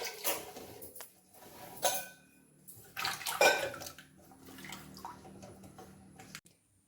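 Rice is washed in water, with a few splashing, sloshing bursts and drips against a pot, fairly close and otherwise quiet, with no voices.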